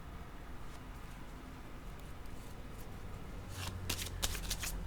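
Tarot cards being shuffled by hand, a soft steady riffle of papery slides that swells into sharper, louder card flutters near the end.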